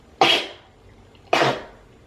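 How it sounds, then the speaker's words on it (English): Two sharp, explosive sneeze-like bursts about a second apart, close and loud, with quiet in between. "I have to sneeze"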